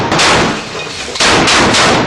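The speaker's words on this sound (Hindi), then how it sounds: "एक लड़ाका मशीन गन से आईडीएफ के ऊपर ताबड़तोड़ फायरिंग करने लगता है।" Heavy gunfire from a machine gun in combat, loud, close blasts with a long booming tail, a second burst starting about halfway through.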